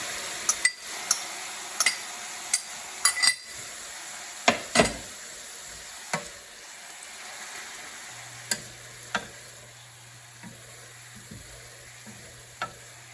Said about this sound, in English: Just a quick stir fry